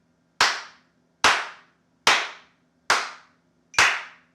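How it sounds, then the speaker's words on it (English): Five evenly spaced hand claps at about 72 beats per minute, crisp, close and alone, with a faint low hum between them. "we're just going to clap along with each click"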